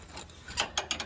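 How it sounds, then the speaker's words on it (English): Socket wrench ratcheting on an alignment bolt of a Dodge Ram 2500 van, a few quick close clicking ratchet bursts in an uneven rhythm. "Socket wrench will make this so much easier."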